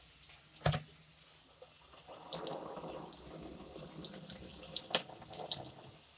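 Water drained from rice being washed for veg pulao splashes and trickles into a sink, starting with a few sharp knocks, then a continuous gurgling flow that pulses in small surges, close and fairly quiet.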